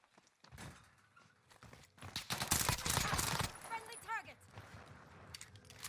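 Enemy gunfire in the Call of Duty Warzone video game, a burst of rapid shots building to a loud stretch in the middle, mixed with game effects and a commentator talking over it.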